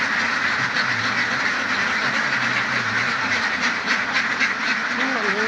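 Many farm ducks quack continuously in a dense, noisy chorus, steady throughout with no clear pauses.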